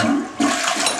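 A newly installed toilet on new linoleum flushes in one loud, close rush of water, with a brief gurgle partway through that gives way to a steady swirling drain.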